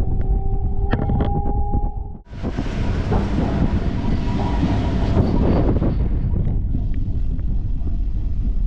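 A Chengalpattu–Arakkonam EMU passenger train runs on the rails, a loud, continuous rolling roar with faint clicking over the joints, heard close from on board after a brief dip at the start.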